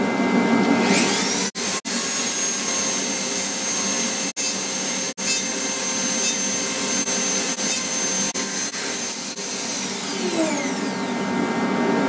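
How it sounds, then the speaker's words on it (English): A Dremel rotary tool grinds delicately on an LED tail light part for a 1976 Mazda RX-5 Cosmo restoration, spinning up to a steady high whine with brief dips and then winding down, close and alone. "Easy to fix with a little delicate Dremel work."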